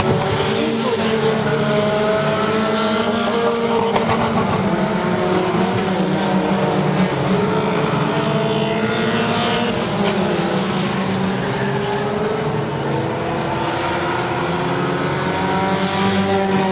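Race cars lapping Saratoga Speedway, a loud continuous engine roar with overlapping revving tones rising and falling as cars pass, under faint distant commentary.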